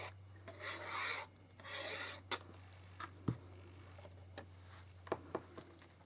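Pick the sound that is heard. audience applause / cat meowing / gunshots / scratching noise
scratching noise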